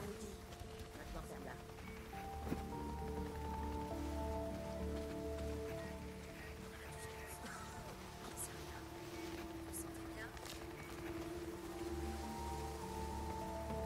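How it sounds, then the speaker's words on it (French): Steady rain patters over a constant background drone in a video game, with scattered sharper drops and faint murmuring, continuous and even throughout. "C'est à se demander si la pluie s'arrête des fois"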